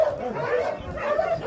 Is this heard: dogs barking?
yes